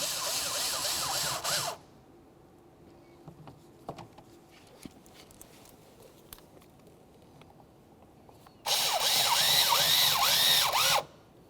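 A power tool fitted with a 5.5 mm socket drives the lower mounting bolts on a 2001–2005 Ford Explorer Sport Trac door in two loud, steady whirring bursts of a couple of seconds each, separated by a quiet stretch of faint handling noises.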